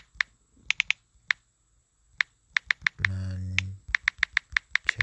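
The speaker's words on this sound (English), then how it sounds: "So you just type in Real Madrid" Taps on a phone's on-screen keyboard click sharply as text is typed, in quick irregular bursts. Partway through, a short buzzing hum plays underneath.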